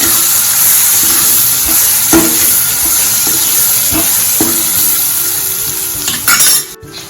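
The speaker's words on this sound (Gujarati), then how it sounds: "તો અહીંયા કાંદા લીધેલા છે તે એડ કરીશું ટામેટા એડ કરીશું મિક્સ કરી લઈશું" Chopped onions and tomatoes fry in a pan with garam masala for a bottle gourd curry, a loud sizzle broken by regular scraping and clinking stirring strokes of a spoon against metal, with no talking.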